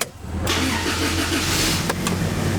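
Car engine starting after a fresh oil change: a quick crank catches into a smooth, steady idle that holds loud and close, with a couple of faint clicks near the end and no talking.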